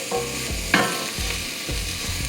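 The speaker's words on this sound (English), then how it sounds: "Now we're going to stir the onions a little bit so they cook properly." Chopped onions frying in a pot for Thai noodle soup, stirred with repeated scraping strokes in a loose rhythm over a continuous close sizzle.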